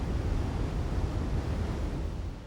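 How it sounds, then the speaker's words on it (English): Niagara Falls thundering as its water plunges over the drop, a dense, steady, deep roar that holds at an even loudness throughout, with no voices. "The very name, Niagara, refers to the deafening roar of the plunging waters."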